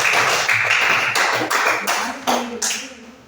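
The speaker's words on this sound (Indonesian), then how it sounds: "Semua tepuk tangan dulu buat Claudia." A classroom of pupils claps for Claudia in a run of quick, loud bursts of hand claps and taps that come in uneven groups and fade toward the end.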